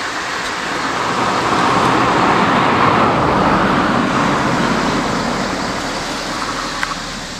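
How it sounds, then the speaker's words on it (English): A car approaching on a rural road in South Central Pennsylvania, a steady broadband road rumble that swells toward the middle and then slowly fades, heard alone with no talk. "I hear a car coming."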